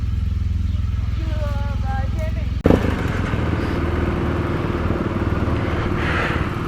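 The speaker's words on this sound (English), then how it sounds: "Everybody is cold starting their bike." Several motorbikes cold starting in the morning in Leh, Ladakh, before the ride to Khardung La; idling engine drone with rumbling, an abrupt loud start partway through, then steady close engine running, with voices faint beneath.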